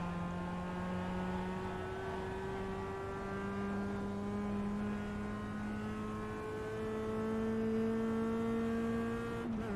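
A Mazda MX-5 Cup race car in iRacing at Virginia International Raceway, its engine droning steadily and loud throughout, pitch slowly climbing and shifting as it accelerates out of corners, with no talk.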